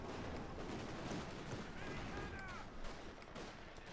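Gunfire and explosions from Company of Heroes 2, in an OKW versus USF match, crackle in short bursts under a commentator's steady talk. The whole clip stays faint.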